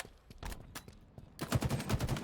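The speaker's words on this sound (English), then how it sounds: "Switching gears over towards Druk, going for a little bit of cross-map gunfire, forced to back down" Gunfire in Halo during a FaZe vs KC Pioneers match at the HCS Kickoff Major Raleigh 2021: scattered shots at first, then a dense, loud burst of rapid automatic fire.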